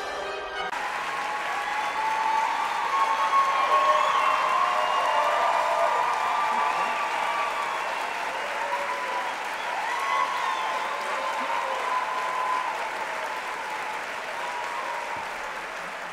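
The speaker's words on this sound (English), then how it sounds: "So this is how liberty dies. With thunderous applause." A large crowd gives sustained, thunderous applause that swells and holds for a long stretch, dense and continuous, with faint cheering mixed in.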